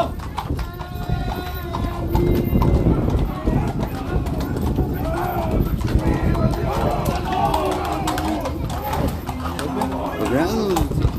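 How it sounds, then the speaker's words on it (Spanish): Horses' hooves clip-clopping across a slippery floor during a Way of the Cross procession, a busy run of hoof strikes mixed with crowd noise and people talking throughout. "también para los caballos, por lo resbaloso del piso"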